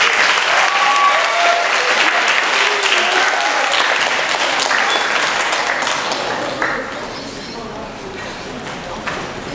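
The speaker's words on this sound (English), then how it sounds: "Let's give her a round of applause." An audience applauds at a Grade 6 school graduation ceremony, dense and loud clapping that gradually thins and fades toward the end.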